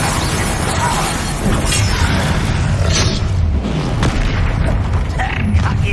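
Confringo fire spell explosions in the Hogwarts Legacy video game, a dense run of loud booming blasts and crashing impacts with mechanical clatter, continuous over several seconds with a voice briefly heard.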